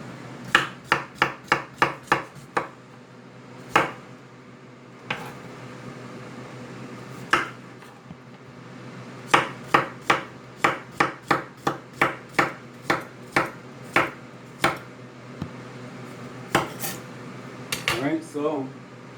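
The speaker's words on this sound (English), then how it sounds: "you're going to cut them almost like chips" A knife chops plantain into thin chip-like slices on a cutting board. The sharp, close knocks come in quick bursts with short pauses between them, and there is faint kitchen clatter near the end.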